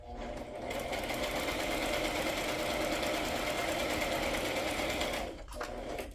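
A sewing machine runs a straight stitch across a handmade matchbook-style notebook cover. It makes one steady, continuous mechanical whir for several seconds, then stops briefly near the end before starting again.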